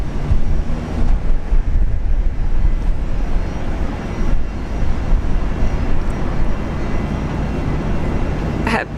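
A plane departing Brisbane International Airport, a loud, steady low jet roar with wind buffeting on the microphone, sustained across the whole stretch with no talking.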